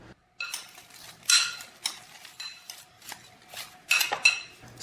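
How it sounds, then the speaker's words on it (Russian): Tomatoes and onions tossed with balsamic vinegar in a dish, several close bright clinks and scrapes of a utensil against the bowl in uneven bursts with quiet gaps, no talking. "Хорошенько перемешиваем."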